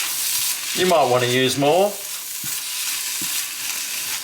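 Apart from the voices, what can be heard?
passata added to sizzling corned beef in frying pan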